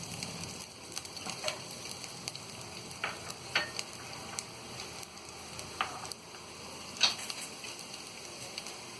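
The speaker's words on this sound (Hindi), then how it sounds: "लहसुन को हल्का सा हम फ्राई करेंगे" Chopped garlic frying lightly in oil gives a steady, soft sizzle close by, with occasional sharper crackles and pops over the hiss; no talking.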